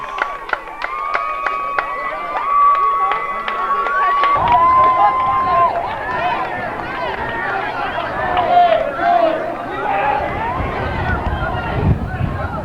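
Large baseball crowd at a league championship trophy presentation, cheering and clapping continuously over a loudspeaker voice and whistle-like tones at the start.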